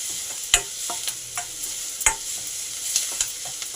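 Potatoes fry with salt and turmeric in a pan for a potato curry, giving a soft, steady sizzle broken by sharp, irregular clicks and scrapes of stirring.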